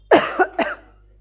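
A teacher coughs during a lecture, a close, sharp burst of two or three rough coughs in quick succession, heard alone with no talking.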